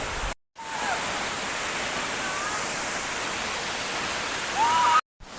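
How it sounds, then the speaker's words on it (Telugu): A waterfall in a tribal area pours with a steady, rushing roar that fills the air without letup, broken only by brief silent cuts at the start and end. "ఇది మన ఒక ట్రైబుల్ ఏరియాలోనే తెలిసి తెలియనటువంటి ఒక వాటర్ ఫాల్ అన్నమాట"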